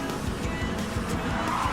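A car in Gran Turismo 7 sliding through a fast corner, tires squealing in a rough, chattering skid over steady engine drone, brief and loud.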